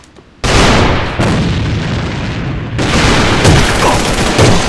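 Grenade explosions in the shooter game A.V.A on the Dock map: a sudden loud, booming blast kicks in, rumbles on, then a second heavy detonation follows, with dense crackling debris under both.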